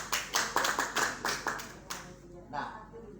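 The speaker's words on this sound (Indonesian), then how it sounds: "Tepuk tangan untuk kita." A group of school supervisors in a training session claps in a steady unison rhythm of about eight beats, then a couple of scattered claps trail off into quiet.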